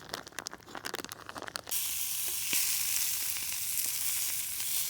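Bannock dough hitting a skillet over coals that are far too hot, a sharp burst of loud sizzling starting partway through and holding steady, after a stretch of crackling and rustling.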